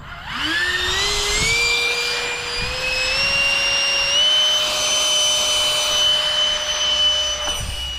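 The jet engine of a jet-powered RC flying wing spools up into a loud, piercing turbine whine that climbs in pitch, then holds a steady roaring howl close by.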